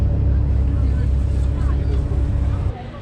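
A ferry engine drones loudly and steadily during a short crossing in Zhenjiang, China, with a little faint voice babble, then abruptly drops away near the end.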